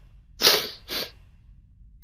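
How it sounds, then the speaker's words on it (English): Two quick, close nasal sniffles, one after the other, followed by near silence. "Pardon me for all the sniffles."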